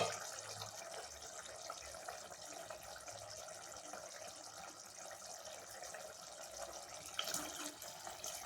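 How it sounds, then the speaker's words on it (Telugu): Tamarind water is poured into a pot of pumpkin sambar in a home kitchen, making a steady, soft, continuous liquid splash that holds for several seconds at close range, with no talking. "ఇప్పుడు ఈ ప్లేస్లో మనం చింతపండు పోసుకోవాలి."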